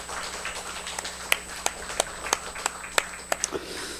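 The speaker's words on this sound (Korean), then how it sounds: "우리 박수로 한번 축복하겠습니다." Scattered hand claps from a church congregation during a Sunday morning worship service, a dozen or so sharp separate claps spaced unevenly over a low steady hum, fairly quiet and without a full applause roar.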